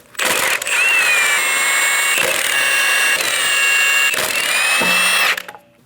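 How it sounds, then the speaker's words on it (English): Power impact tool spinning a 22mm socket on the lug nuts of a 2011-2026 Dodge Durango front wheel: loud, close whirring bursts in three or four runs separated by brief gaps, with a high mechanical whine. "remove all 5 lug nuts."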